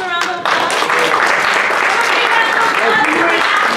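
Group applause at a student leadership workshop as participants close the session, a brief voice at the start giving way to steady, dense clapping that fills the rest of the moment.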